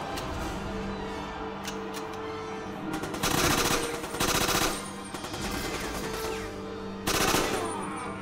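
Game gunfire in the 007: Quantum of Solace video game, several sustained automatic bursts over a continuous loud backdrop of music and effects.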